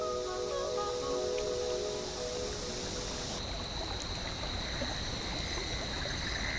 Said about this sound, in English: Sometimes it's nice just to sit by a creek and listen to the wind in the trees.